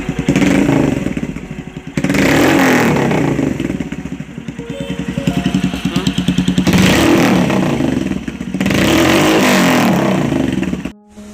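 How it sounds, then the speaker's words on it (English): A Royal Enfield Himalayan motorcycle fitted with a new exhaust idles loud and close, its thumping engine rising in several revs and falling back before cutting off at the end. "the thump of this exhaust is really more than I thought"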